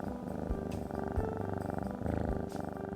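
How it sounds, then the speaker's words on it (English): A cat purrs close by in a soft, steady rhythmic rumble, each breath cycle pulsing evenly for a few seconds with nothing else heard. "Purr."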